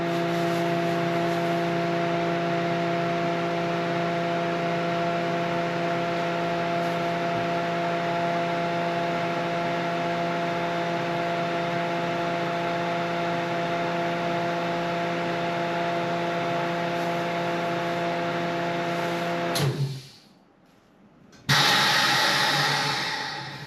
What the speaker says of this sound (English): It's a chamber vacuum sealer. It has a compressor in it.